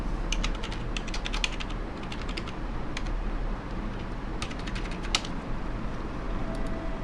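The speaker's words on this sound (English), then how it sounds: "you type the order link." Keys clatter on a computer keyboard in steady, irregular bursts of typing, fairly close and clear over a low background hum, with no voices.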